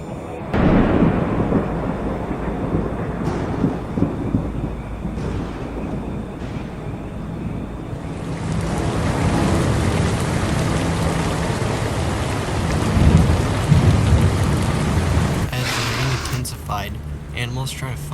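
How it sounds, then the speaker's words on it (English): A prehistoric Carboniferous thunderstorm with steady heavy rain, a continuous broadband wash with low rumbling thunder swelling through the middle and ending in a sharper shift near the close, loud and enveloping without clear talk. "as storm clouds come overhead, rain becomes more and more likely"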